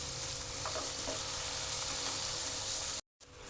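Tomatoes, cashews, coriander stems and green chilies sizzle and fry steadily in a pan with oil while being cooked down for matar paneer, a loud continuous hiss that cuts off abruptly near the end.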